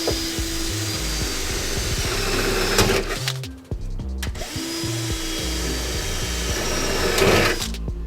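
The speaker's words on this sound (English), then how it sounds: "this is just a piece of wood that I drill through" A drill bores through a wooden stop block on a Toyota Tacoma hood, a loud steady grinding whir with stop-start pulses and a brief pause midway before it resumes.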